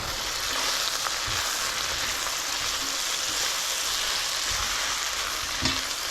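Hungarian mushroom soup base sizzles in a pot as it is stirred, a dense, steady frying hiss with faint scraping knocks from the stirring, close up and without talk.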